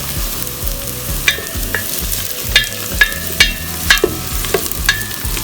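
Onions sizzling in a pot for minestrone soup, a steady hiss of frying punctuated by sharp clinks and scrapes of a utensil stirring against the pot.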